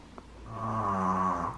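A pet dog snores once, softly and close by, in a quiet indoor room with no other sound.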